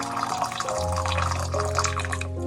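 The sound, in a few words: pouring 300 grams of boiling water onto brown sugar in a bowl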